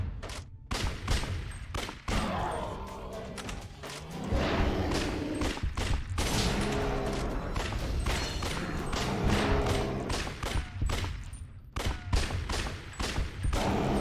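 Rapid bursts of gunfire and heavy thuds fill a shootout in the detective video game Judgment on PS4, loud and dense with brief pauses between volleys.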